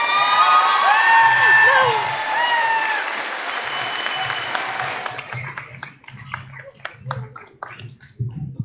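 Loud applause with whoops and cheers fills a high school commencement ceremony, high excited voices shouting over sustained clapping before the crowd noise thins and a speaker begins talking.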